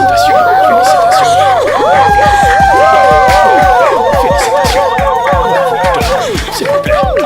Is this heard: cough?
no